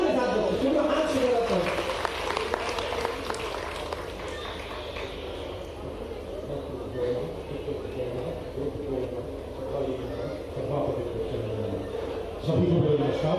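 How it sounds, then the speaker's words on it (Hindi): Sustained crowd applause welcomes a speaker at an astronomy and Indian knowledge tradition workshop in Ujjain, steady clapping running throughout with an amplified voice speaking over it. "आपकी जोरदार तालियों के साथ"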